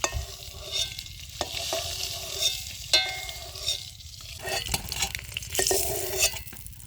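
Eggs seasoned with salt and turmeric sizzle lightly in a pan while a utensil stirs and scrapes, giving irregular clinks and scrapes over a steady soft frying hiss.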